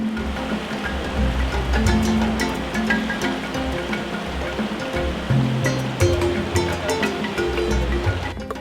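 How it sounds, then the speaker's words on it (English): River Aglad rushing through a Garhwal valley, a steady broadband roar of flowing water heard close and continuous with no talking. "I am on the bank of River Aglad,"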